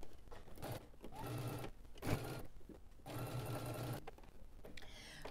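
A sewing machine stitches fabric at regular 2.5 length with backstitching, running in short rhythmic whirring bursts with brief pauses between them, close and fairly quiet.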